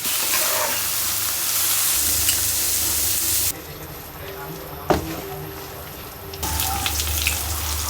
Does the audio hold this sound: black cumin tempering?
yes